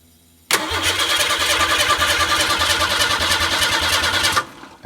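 A Ford Mustang project car with no spark, cranking after being primed with gasoline: a rapid rhythmic starter churn that begins abruptly, runs steadily for about four seconds without catching, then stops, close and loud with no talk.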